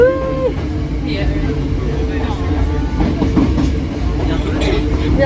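Hakone switchback train running on its rails, with a low steady rumble and faint rolling clatter throughout while people talk over it nearby.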